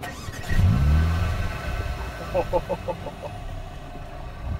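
Mercedes-AMG A35 4MATIC with a 4-cylinder engine fires up using AMG Emotion Start, a loud low cranking catch and rev flare, then a burbling idle with a few pulsing blips.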